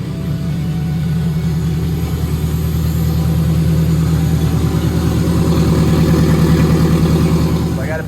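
A turbocharged K24-swapped Honda Civic EK coupe engine idles inside a garage, a loud, steady low rumble with a fast, even pulse throughout, close to the listener.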